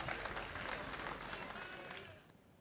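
Large outdoor crowd of about 1,400 applauding at the 2021 Disc Golf World Championships final round, steady dense clapping that fades toward the end.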